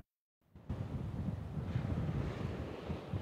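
Strong wind blasts across an eroding island beach with rough surf, a gusty rumbling roar that starts abruptly after a split second of silence and stays loud and buffeting.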